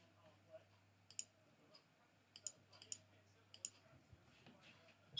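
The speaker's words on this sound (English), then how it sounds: "I'm typing" Keyboard typing in a quiet room, heard as faint, scattered clicks in small clusters over a low steady hum.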